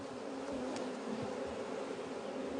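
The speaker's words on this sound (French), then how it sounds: "Et le miel qui est dans le corps de ruche, on le laisse en permanence pour les abeilles." Honey bees hum steadily around an open beehive, a continuous close buzzing drone with the occasional louder insect passing near, and no voices.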